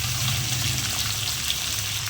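Capsicum (simla mirchi) pieces sizzling in about four spoons of hot oil in a kadai for an egg curry, a steady close hiss and crackle running throughout without pause.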